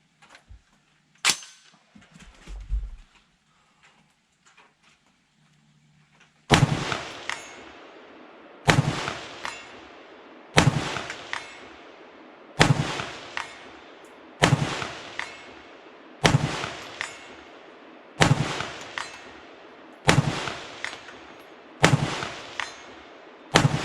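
A Springfield Armory Hellion rifle is fired at a 200-yard steel plate. After a mostly quiet start with a stray bang, about nine loud, sharp shots ring out at a steady pace, each one trailing off in a brief echo.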